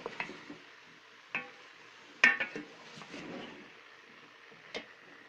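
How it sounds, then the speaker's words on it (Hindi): A spoon stirring marrow vegetable sabzi in a pot gives a few sparse metallic clinks and scrapes, close by and fairly quiet, separated by short pauses without speech. "अब इसे अच्छी तरह मिक्स कर देंगे।"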